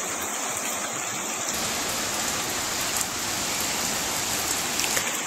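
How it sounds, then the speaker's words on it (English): Heavy rain pours down in a dense, constant hiss, close and unbroken throughout, with occasional louder drips and splashes and no talking. "it is seriously raining right now"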